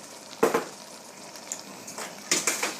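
A spoon stirs chopped rhubarb into apples in a pot for tomato apple pear chutney, giving a few soft scraping and clinking strokes with quiet sizzling in between, close and fairly gentle.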